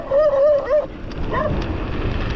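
A dog barks and yips along a mountain bike trail in Sunbilla, a quick burst of three or four near, loud barks followed by a fainter yelp amid outdoor rumble.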